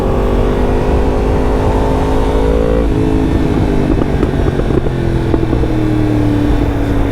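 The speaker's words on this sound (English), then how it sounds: "Those backfires definitely won't be helping the fuel economy." Yamaha MT10 second-generation motorcycle fitted with an Akrapovic exhaust, loud close engine note with falling revs and a rapid string of sharp crackling backfire pops on the overrun, no voices.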